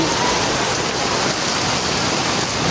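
Heavy rain pouring down on a flooded road in a dense, constant roar of water with no pauses, loud and close, and no voices.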